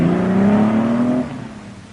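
A 1963 Mercedes W113 230SL accelerates with a rising engine whine that climbs in pitch for about a second, then drops away quickly as the throttle eases, close and fairly loud with no talking.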